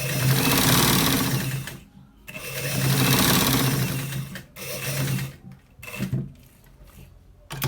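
Sewing machine stitching a shirt collar, running in loud sustained bursts with short pauses between them and a few quick stop-start runs near the end.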